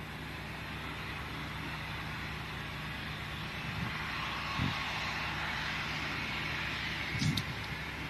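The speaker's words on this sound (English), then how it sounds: "And our next arrival from Helsinki, the Finnair" A Finnair Airbus A320 arriving from Helsinki, heard as a distant, steady broadband jet roar that stays faint and even throughout, with a couple of small bumps of nearby noise.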